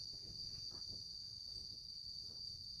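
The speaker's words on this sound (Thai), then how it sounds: "มีแต่เสียงจักจั่นเล่นไหลกล่อมใจกล่อมจิตนักปฏิบัตินักภาวนา" Cicadas drone steadily at a quiet forest meditation ground, a continuous high shrill buzz holding unbroken over faint low rumble, with no voices present.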